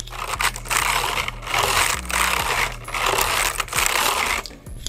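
A hand sweeps back and forth across the keys of a Zowie optical gaming keyboard, giving four or five close, steady bursts of rattling key clatter with brief gaps between passes.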